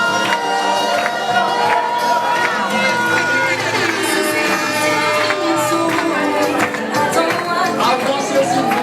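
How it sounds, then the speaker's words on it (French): Wedding guests cheer and shout loudly as the bride enters, a dense continuous crowd roar with whoops and music-like tones running beneath it. "L'entrée de cette belle princesse. Applaudissons très très fort."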